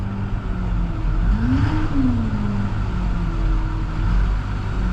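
A plow truck's engine runs in a steady, close, loud drone with an irregular rev that swells and falls back once partway through.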